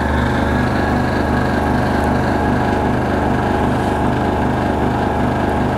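Air Venturi home compressor running steadily while filling an airgun air bottle, a loud continuous mechanical drone with a rapid pulsing chug throughout, close by and alone.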